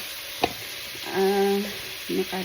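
Vegetables cook in a pan, giving a soft sizzle, a sharp utensil tap early on, and then a couple of short tonal hums that rise over the frying.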